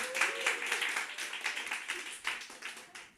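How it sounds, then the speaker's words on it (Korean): A church congregation claps to welcome a newcomer during a worship service, fairly faint, uneven clapping heard at some distance for a few seconds. "다 같이 박수로 환영해 인사했으면 좋겠습니다"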